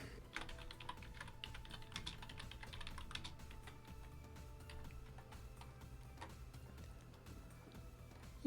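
Quiet, rapid clicking of a computer keyboard as HTML code is typed, with steady irregular keystrokes throughout, faint and close with a low background hum.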